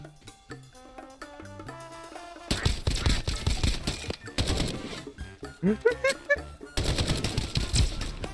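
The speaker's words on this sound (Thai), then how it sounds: "ปืนโคตรแรง มันยิงหาอะไรมันวะ" Bursts of automatic fire from a powerful gun in the video game Escape From Duckov, with rapid loud volleys in several long stretches that alternate with quieter moments carrying game music.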